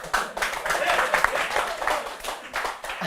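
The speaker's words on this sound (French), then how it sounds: "Mais vous applaudissez pourquoi?" Live comedy-show audience applauding a comedian's introduction, a dense continuous patter of clapping with a few voices mixed in.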